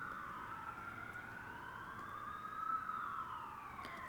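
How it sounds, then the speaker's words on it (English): A police siren sample, far off and quiet, its wailing tone rising and falling slowly over a faint ambient bed, played low as a background atmosphere with no voices. "I've added more sirens, but this time it's kind of more of an atmosphere to sit under the track"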